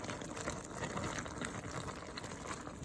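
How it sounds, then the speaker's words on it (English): Cooked apples being mashed with a potato smasher in a pot while making apple butter, a steady wet squishing and bubbling churn that carries on throughout, close and fairly loud. "I'm back with the potato smasher. I'm just smashing these"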